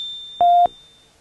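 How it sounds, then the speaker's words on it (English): A single steady electric buzz from a buzzer in a simple complete circuit drones for about a quarter second, loud and close, then cuts off cleanly, with a faint high whine in the background. "Now you hear the buzzer."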